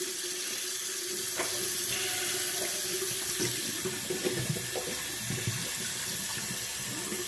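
Tap water runs steadily into a shaving scuttle as it is rinsed, a continuous splashing stream with small clunks of the ceramic being handled, close and alone.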